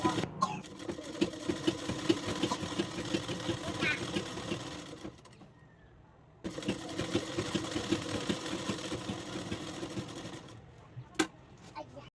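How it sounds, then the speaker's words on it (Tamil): A sewing machine runs close up, stitching a hem along a folded one-inch edge of a blouse sleeve, with a steady rapid mechanical whir in two bursts separated by a quiet pause, ending with a small click. "இப்போ 1 இன்ச் அளவுக்கு அப்படியே மடிச்சுட்டு ஓரத்தையல் போட போகிறோம்."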